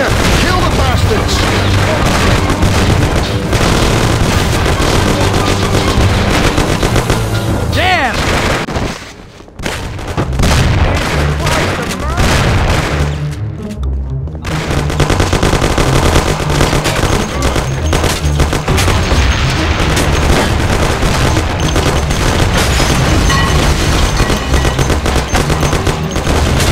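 Sustained gunfire in a shootout from the video game Mafia, with dense machine-gun bursts and booming shots running almost nonstop, two brief lulls around the middle, and game voices shouting over the loud firefight.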